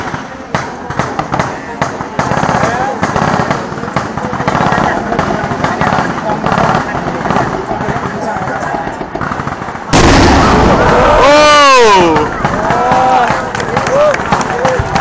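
Artillery and gunfire crack repeatedly during a 2014 military exercise at Wang Nam Khiao, with rapid sharp bangs, a loud rushing whistle partway through, and voices talking over the firing.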